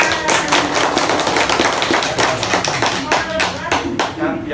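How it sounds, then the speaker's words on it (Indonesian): A group claps hands together at the close of a kindergarten parenting seminar, loud continuous crowded clapping with sharp overlapping slaps throughout, voices faintly mixed underneath. "Yang kita tepuk tangan yang terakhir."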